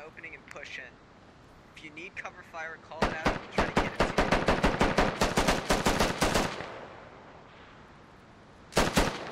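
Gunfire in the military shooter Squad: a sustained burst of rapid automatic shots lasting several seconds, then a short final burst, with voices talking before and between the shooting.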